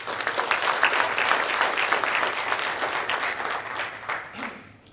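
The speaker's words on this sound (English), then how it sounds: "Please give them a round of applause." An audience applauds at a Healthy Caribbean Coalition workshop: dense, steady clapping from a crowd, loud and continuous, thinning and fading out over the final second.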